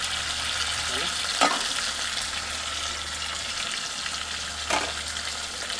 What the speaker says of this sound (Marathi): त्यानंतर त्याच्यात टोमॅटो, मिरची, कढीपत्ता टाकून व्यवस्थित शिजवून घेतलं.